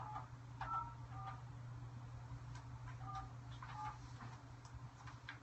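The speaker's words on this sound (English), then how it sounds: "We are dialing. We are dialing. I hope I dialed the right number." A telephone number is dialed, a short series of faint tones and clicks heard fairly quietly over a steady low background hum.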